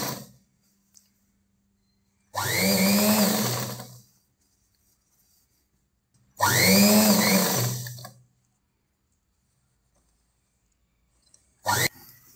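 Sewing machine stitching the sleeves of a blouse in two loud, steady runs of about two seconds each and a brief start at the end, with near silence between them.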